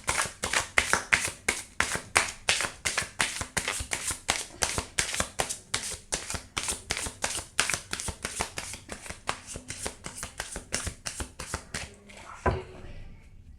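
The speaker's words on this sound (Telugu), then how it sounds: "మళ్ళీ షఫుల్ చేస్తున్నాను." Tarot cards being shuffled by hand, a long steady run of crisp rhythmic flicking slaps close to the mic, ending in a final tap.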